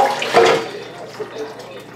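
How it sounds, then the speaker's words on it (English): Water is dumped from a pot of boiled paper, a brief splashing pour near the start that trails off into faint drips and handling noises. "And I'm going to dump the water out of here."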